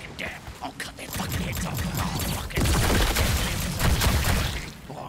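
Rapid bursts of gunfire from a weapon in the video game High On Life, dense and continuous through most of the stretch with a few short pauses, loud and close, while someone talks over it.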